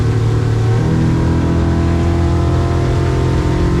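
A Yamaha F150 outboard motor on a 21-foot 2025 Seahawk LE boat accelerating on the water, a loud, close, steady engine roar whose pitch climbs early on and then holds as speed builds.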